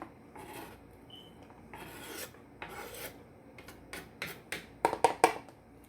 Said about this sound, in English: I'm just going to take my little bowl and rake the onions in there.